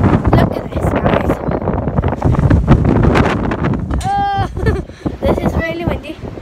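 Strong gusts of wind buffet the microphone out in the snow, a heavy, rough roar that rises and falls throughout, with brief higher-pitched sounds cutting through near the end.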